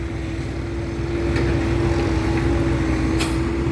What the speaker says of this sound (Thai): เอาเจ้ารถไถ MU 57ครับ มาทำทางแล้ว